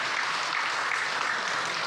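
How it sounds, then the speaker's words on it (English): An audience claps in full, even applause at a speech by Xi Jinping on Malaysia–China relations, a dense, loud wash of many hands with no pauses. "Thank you for clapping."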